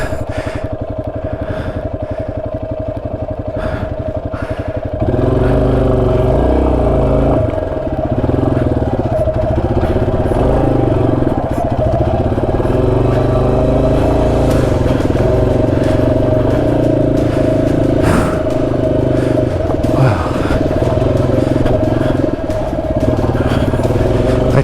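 An XT dual-sport motorcycle labors over a rough trail in New Mexico, its engine droning loud and close throughout, growing heavier after a few seconds as it climbs, with clatter from the terrain.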